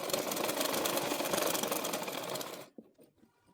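A sewing machine stitches palazzo pants in a fast, even mechanical whir for about two and a half seconds, then stops abruptly, leaving faint handling clicks and rustling up close.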